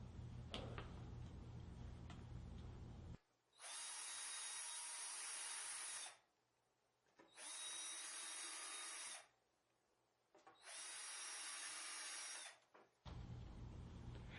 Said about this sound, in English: Now use your Vicks bit to pre-drill your screw holes.